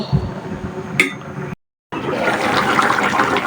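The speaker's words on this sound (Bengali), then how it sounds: "রান্নাঘরে যেগুলো হাঁড়ি পাতিল জমা হয়েছে এগুলো ধুয়ে পরিষ্কার করে" Pots and pans being washed under running water in a home kitchen, with a gush of water, a sharp clink near one second, a brief dropout, then steady splashing.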